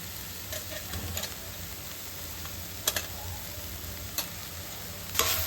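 Turmeric and chili powder frying in a pan with curry leaves and green chilies for mutton curry, a quiet, steady sizzle with a few soft stirring scrapes and clicks scattered through.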